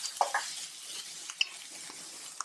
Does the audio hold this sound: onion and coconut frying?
yes